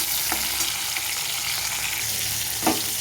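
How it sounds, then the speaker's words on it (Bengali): One large tomato fries in oil for a vegetarian mung dal and pointed gourd curry, giving a dense, steady sizzle up close with a couple of soft stirring thumps. "টমেটোটাকে কিছুক্ষণ ভেজে নেব তেলের মধ্যে।"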